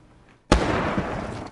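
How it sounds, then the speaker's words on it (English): A sudden loud blast from a training explosion at an ATF bomb training camp erupts after near silence, then a sustained roaring rumble and debris noise carries on for about a second, with a faint second burst at the end. "After an explosion"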